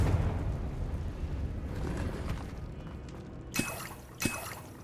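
Confringo fire spell blasts in the Hogwarts Legacy video game, two sharp explosive bursts near the end following a steady rumbling, crackling ambient bed.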